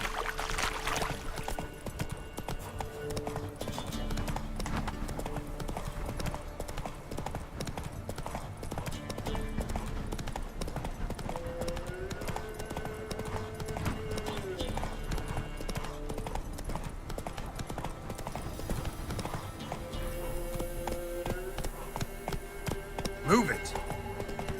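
Roach, a horse in The Witcher 3, gallops with steady rapid hoofbeats throughout, mixed with game music and a voice speaking over it.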